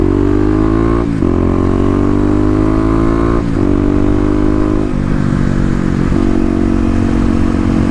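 A Suzuki DRZ motorcycle engine runs loud and close, holding a steady harmonic drone with several brief dips and shifts in pitch as the throttle changes.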